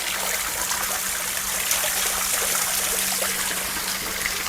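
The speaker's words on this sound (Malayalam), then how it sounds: "ഫിൽറ്റർ കഴിഞ്ഞ് വരുന്ന വെള്ളമാണ് ഈ കാണുന്നത്." Filtered water pours steadily out of a pipe after passing through a water filter, a loud, continuous splashing rush with no break and no voices.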